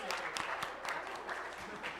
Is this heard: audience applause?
yes